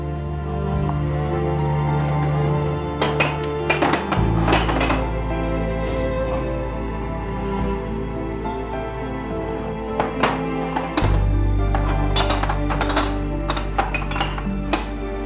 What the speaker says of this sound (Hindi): पहले तुम डिशवॉशर से बर्तन निकाल दो, इसके बाद कप्स और प्लेट्स को तुम कबर्ड में रख देना